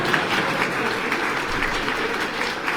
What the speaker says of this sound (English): You can clap for these guys.